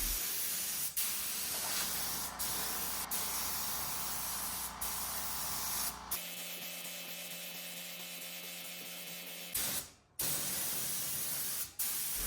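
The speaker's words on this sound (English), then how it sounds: "When using an HVLP spray gun, you want to go with thinner coats" HVLP spray gun laying dark green paint onto a vintage dresser, a steady close hiss with brief pauses and trigger clicks, shifting to a finer, quieter spray midway before stopping.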